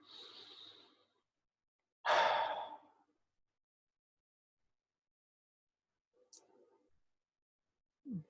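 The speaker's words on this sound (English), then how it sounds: "Take a deep breath." Slow, deep breathing during a mindfulness stress-reduction exercise: a soft inhale, then a louder, longer exhale like a sigh after a pause, followed by quiet and a few faint breaths near the end.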